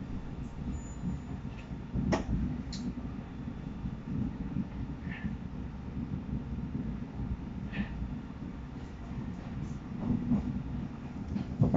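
Moscow metro train on the Butovo line pulling into a station: a steady low rumble of wheels and cars with occasional short squeals and clicks, moderately close, with no one speaking.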